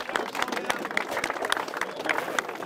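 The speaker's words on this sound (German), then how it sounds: "Applaus für Diarrhü!" A crowd claps steadily throughout, dense applause with a few voices mixed in, fairly loud and continuous before cutting off abruptly.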